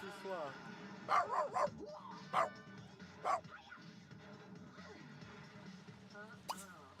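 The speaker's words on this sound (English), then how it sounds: "Woof woof." A dog in The Sims 3 barks and yips several times at moderate volume, mixed with soft in-game voices and background ambience.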